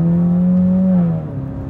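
A turbocharged Chevrolet Cruze with a Stage 2 tune and traction control off pulls hard in second gear with a steady rising drone, then eases off as the pitch drops near the end.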